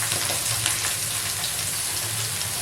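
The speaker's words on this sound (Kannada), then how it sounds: "ಗೋಲ್ಡನ್ ಕಲರ್ ಬರೋವರೆಗೂ ಫ್ರೈ ಮಾಡ್ಕೊಳ್ಳೋಣ." Vegetables fry in a pan until golden, giving a steady, even sizzle and crackle throughout, moderately loud and close with no voices.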